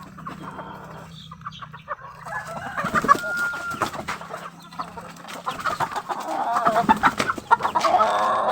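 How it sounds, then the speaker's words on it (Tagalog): Chickens cluck repeatedly around a farmyard while a rooster crows, the calls growing louder and busier toward the end over a low background hum, with no talking. "Itong mga manok idol."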